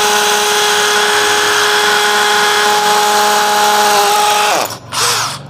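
A DeWalt DCD706 brushless cordless drill whirs loudly and steadily for several seconds with a sustained high motor whine, then spins down abruptly and gives a short final burst, close and alone.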